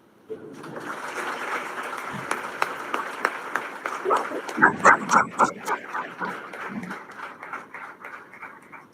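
An audience at a camp closing ceremony applauds for two men, a dense patter of clapping that swells midway, with a dog barking and yipping through the clapping and some voices underneath.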